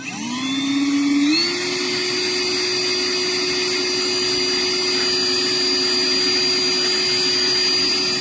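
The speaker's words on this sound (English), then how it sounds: "and I'm just going to drill in the center." A power drill whines steadily, rising in pitch as it spins up, then grinds at a constant high tone into hard, water-wetted ceramic, drilling a drainage hole.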